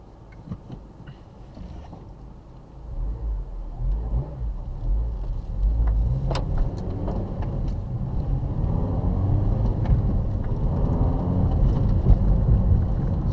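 A 2009 eighth-generation Honda Civic Si, heard from inside the cabin while driving: a low engine and road rumble that builds and stays steady, with light wind noise and no talking.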